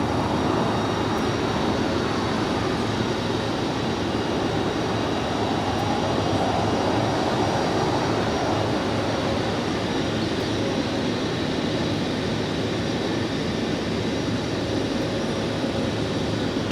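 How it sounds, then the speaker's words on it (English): American Airlines Airbus A321neo departing LAX for Phoenix, Arizona, producing a steady, loud jet engine roar with a faint whine that holds evenly throughout, without talk. "Our next departure is American Airlines flight 781 heading to Phoenix,"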